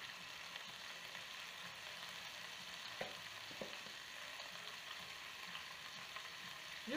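Food browns in a pan with steady, quiet frying sizzle and a few faint stirring scrapes, constant in the background, with no speech.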